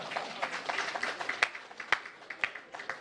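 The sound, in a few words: audience clapping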